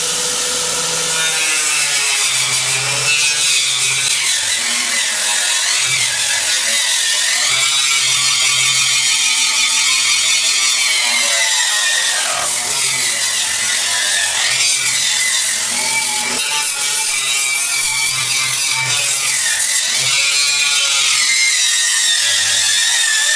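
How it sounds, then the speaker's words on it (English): A cheap $17 angle grinder fitted with a wire wheel scrubs a walkway surface before primer and paint, giving a loud, continuous, harsh whirring rasp that rises and falls as the wheel bites, with no talk. "Right now I'm just using a Wally World Special grinder, 17 bucks, maybe 18, and a wire wheel I got somewhere else,"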